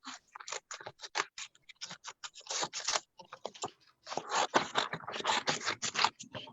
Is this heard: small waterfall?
no